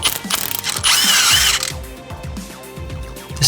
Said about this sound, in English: Then you'll need a 17mm socket to remove the nut.